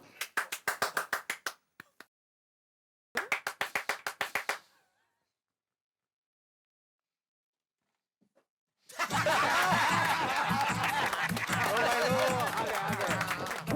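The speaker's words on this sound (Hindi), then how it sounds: "बजाओ ताली।" Bursts of clapping near and far, stopping and starting, then a long stretch of loud overlapping clapping and laughter from a group.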